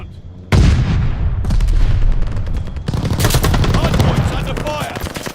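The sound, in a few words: hostile air strike strafing gunfire in a video game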